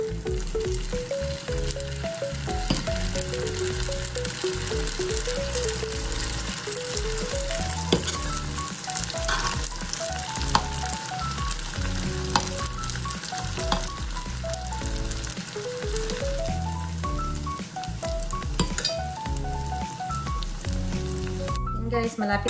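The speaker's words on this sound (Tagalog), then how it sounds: "mainit na po ang aking mantika. Sobrang init na po siya. So, ilagay na po natin ang ating saging." Banana fritters (turon) frying in very hot oil, a continuous loud sizzle throughout with a melodic tune playing along underneath.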